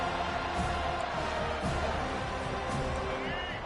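Stadium crowd at a football game as a team starts a drive, a broad, loud roar of many voices filling the whole moment, sustained and dense with faint shouts inside it.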